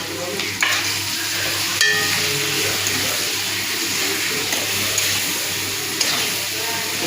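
Chopped onion and tomato fry in a pan for an apple korma, a steady close sizzle with occasional clinks and scrapes of stirring, continuous throughout.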